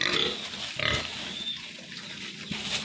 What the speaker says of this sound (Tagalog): Makikita nyo po gustong gusto po ito ang mga baboy.